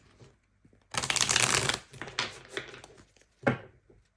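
Tarot cards being shuffled close up, one long riffling burst followed by a few shorter flicks and taps, with no talking.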